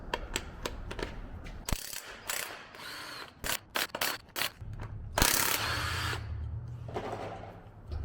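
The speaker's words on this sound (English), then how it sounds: "Now we're going to remove the flywheel. It's held on with 6 17mm bolts." A hand ratchet removes 17mm flywheel bolts on a Toyota 22RE engine, with repeated close clicking strokes and metallic clatter in uneven bursts throughout.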